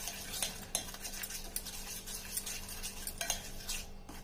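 A sugar mixture is stirred in a bowl with a utensil, giving a run of quiet, irregular scraping strokes and light clinks against the bowl, close up, with no voices.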